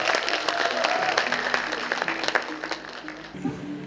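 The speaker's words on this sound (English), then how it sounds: "Please give a round of applause." An audience at the Miss Northeast India 2026 beauty pageant applauds the contestants, a sustained, dense wash of clapping with faint crowd noise.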